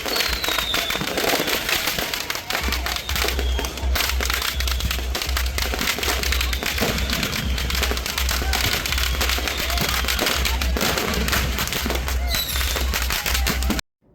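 Strings of firecrackers burst during a Deepavali celebration in Little India, Malaysia, a dense, continuous crackle of rapid pops with heavy low booms underneath, loud and close throughout.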